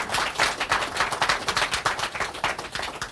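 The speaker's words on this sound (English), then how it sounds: "This thunderous round of applause is for you." An audience applauds steadily and fairly close for the whole stretch, a dense, even patter of many hands with no talking over it.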